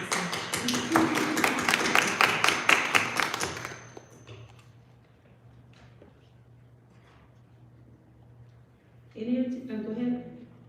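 A burst of clapping from a small group at a school board meeting lasts a few seconds, then fades into quiet room noise before a voice speaks.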